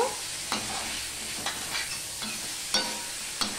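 Radish curry with green chilli, chopped tomato and ginger being stirred in a pan, soft sizzling under a few distinct scrapes and clicks of the spatula spaced about a second apart, no talking.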